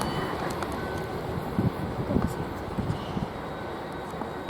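A train led by unit 531 runs past Queenstown Road on the line to Waterloo, a faint continuous rumble with light rhythmic wheel clatter and a few sharp clicks, heard from a distance.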